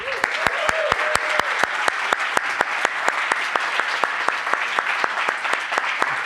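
A conference audience at PyCon Italia 2024 claps after a lightning talk, a steady, evenly paced rhythmic clapping that runs throughout, with a brief faint voice near the start.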